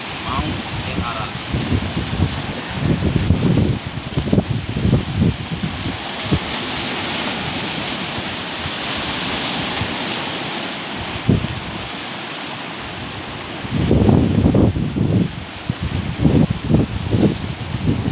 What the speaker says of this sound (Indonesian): Ombaknya begitu kencang sekali ini.